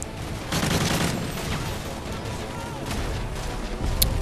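Continuous gunfire from Call of Duty: Modern Warfare 3 crackles as a steady fusillade of shots with a few sharper reports, while a voice talks over it.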